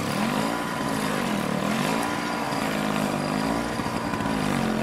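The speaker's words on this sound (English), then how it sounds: "These guys are snow blowing, and it's impressive." A snow blower engine runs steadily during a 2011 snowstorm, a loud continuous motor drone with a wavering pitch that rises and falls across the whole stretch, close by and with no talking.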